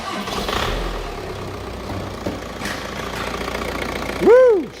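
A VW Audi BKD 2.0 PD diesel engine cranks and fires on a first start after a timing belt replacement, with a steady mechanical churn building to a loud surge near the end.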